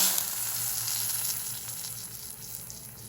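Dried red chilli sizzling in hot oil for a pumpkin curry tempering, a steady bright crackle and hiss that holds evenly throughout, close and fairly loud, with no voices.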